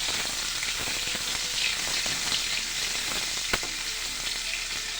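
A bay leaf fries in hot oil for masoor dal, giving a steady, close crackling sizzle with a soft stir and one sharp pop near the end. No one speaks.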